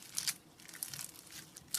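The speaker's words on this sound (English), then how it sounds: "It's still pretty sticky, but it's decently crunchy" Still-sticky crunchy slime is squeezed and worked by hand, giving faint, crisp crackling and crunching bursts that come in short clusters close to the mic.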